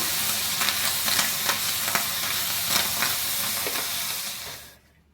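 Small bitter gourds fry in oil in a pan, a close, dense sizzling hiss broken by occasional stirring scrapes, fading out over the last second without any speech.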